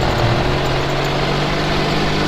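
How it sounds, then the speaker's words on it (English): A turbocharged off-road vehicle on sand dunes idles loudly and close, a steady low rumbling drone with no pauses. "this turbo sounds pretty damn good too"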